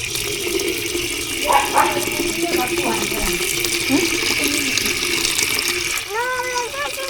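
Water pours or gushes steadily throughout while people talk over it.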